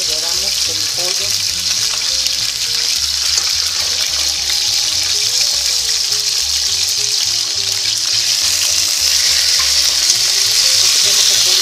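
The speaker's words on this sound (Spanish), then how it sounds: "En una cacerola con aceite caliente doramos el pollo." Chicken browning in hot oil in a pot gives a loud, steady sizzle and crackle that runs unbroken throughout, with no talking.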